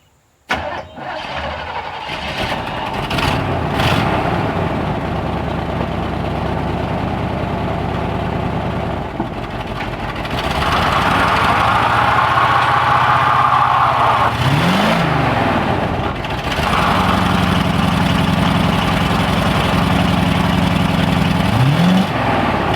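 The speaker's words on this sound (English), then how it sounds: "I've never done a burnout in front of my shop, so I couldn't think of a better time than now" An old 1965 Chevrolet C10 pickup sits at idle, then its engine revs up hard and holds a loud, strained roar during a burnout attempt, with a couple of sharp squeals near the end.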